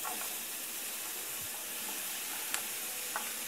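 Potatoes, green peppers and chopped vegetables cook over medium heat in a pan, giving a steady soft hiss and sizzle with a couple of faint clicks, no voices.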